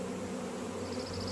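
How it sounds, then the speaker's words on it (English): A swarm of bees at the entrance of a hive gives off a dense, steady buzzing hum, close and continuous, with no voices. "The bees are walking in."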